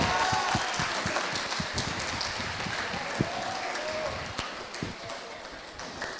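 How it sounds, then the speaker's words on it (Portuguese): Audience applause after a lecture on adolescent smoking fills a hall, a sustained patter of many hands with scattered louder claps, fairly distant and fading slightly, with voices mixed in. "uma salva de palmas para eles, por favor"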